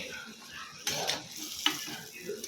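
Elephant foot yam stirred as it fries in a pan gives a soft steady sizzle with a few sharp utensil scrapes and clinks against the pan, close up.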